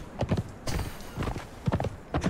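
Clip-clopping horse hooves in the video game Conan Exiles, with several clusters of quick hoofbeats landing in an uneven rhythm, close and moderately loud, and no talking over them.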